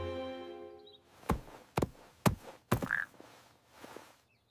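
Cartoon frog croaks in a 3D animated Frog Prince fairy tale, four sharp, loud croaks in quick succession after a sustained tone, followed by a softer trailing call.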